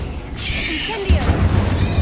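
Incendio fire spell cast in the Hogwarts Legacy video game: a sudden whooshing burst that lands about midway, thickening into a low, sustained rumble with thin swirling tones above it.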